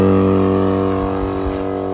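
An abandoned Citroën CX 2400 Pallas runs with a steady idling engine hum, close and fairly loud, with slight fluctuations and a gradually easing level, no voices.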